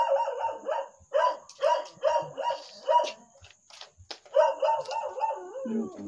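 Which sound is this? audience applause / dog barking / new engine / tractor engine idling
dog barking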